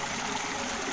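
Spring water flows steadily through a drain channel outdoors, a soft, continuous trickling rush with no other sounds.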